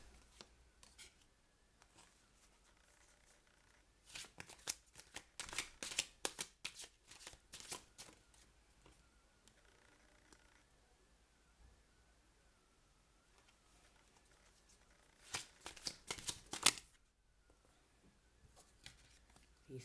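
Rider-Waite tarot cards shuffled by hand into piles for a reading, heard as two bursts of close, crisp riffling and flapping separated by quieter handling, with no talking.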